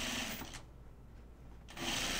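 A sewing machine stitching a seam on a bucket hat, a fast motor whir that pauses briefly in the middle and then starts again, close and steady, with no talking.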